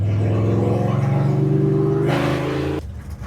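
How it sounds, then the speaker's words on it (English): A drag racing car makes a practice launch at Big Sky Race Week in Montana. Its loud, close engine roars steadily with a slowly rising tone, then cuts off abruptly near the end, with no talking. "Good thing is you got room for a practice launch"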